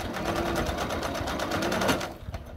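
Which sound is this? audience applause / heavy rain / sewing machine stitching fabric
sewing machine stitching fabric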